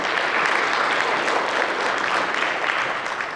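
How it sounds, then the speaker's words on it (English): An audience at an M365 Copilot tech presentation breaks into sustained clapping, a thick, even wash of many hands that holds steady for a few seconds and tapers slightly at the end. "y'all get to clap now"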